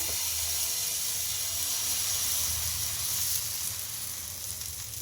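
Rava uttapam batter made from semolina sizzles on a hot oiled pan with a steady, bright, hissing fry that stays close and continuous throughout, with no talking.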